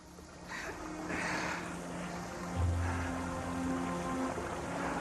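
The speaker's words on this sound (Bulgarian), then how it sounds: "Тунелът се пълни с вода." Water floods into an ice tunnel buried under deep snow, a steady low rushing and churning that swells midway, heard alone and somewhat distant.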